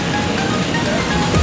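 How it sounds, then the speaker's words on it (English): Water falling steadily down a large sculpture fountain of giant blocks, a continuous broadband splashing rush heard up close with no voices. "And water just comes down randomly, I guess."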